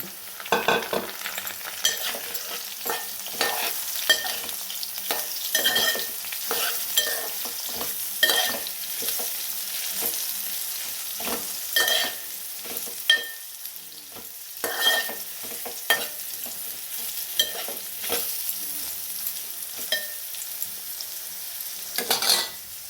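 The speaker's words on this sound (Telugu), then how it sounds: "ఇలా కలుపుతూ కొంచెం ఫ్రై అయినాక" Meal maker chunks stir-fry with browned onions in a pan, a close crackling sizzle under frequent rhythmic scrapes and clinks of a spatula, with no talking.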